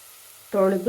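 Grated carrot hits a hot pan for a carrot chitranna lunch-box dish, bursting into a loud, steady sizzle halfway through after a quiet start.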